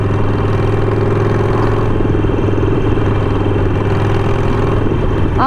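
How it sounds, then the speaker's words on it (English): A deep, steady Harley-Davidson Sportster 48 Goodwood Edition engine idles close by, its low custom exhaust rumble continuous and even throughout, with no talking. "I really like the tone of the exhaust, because it's not harsh, it's deep"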